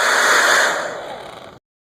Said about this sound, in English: I finished drying it out with a hair dryer.